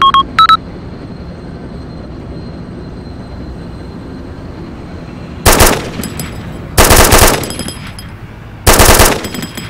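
Soldiers fire in the Arma 2 video game, Russian Army against CDF troops: three loud bursts of sustained automatic machine-gun fire, each lasting about half a second, separated by quieter battlefield ambience, with two brief sharp tones at the start.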